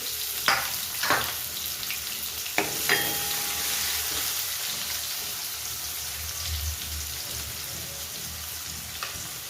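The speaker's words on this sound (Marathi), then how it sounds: "हा बारीक केलेला कांदा आपल्याला छान मस्त फ्राय करून घ्यायचं आहे आधी" Finely chopped onion and green chili fry in a pan for poha made from leftover chapati: a constant hissing sizzle up close, broken by a few sharp stirring clatters near the start.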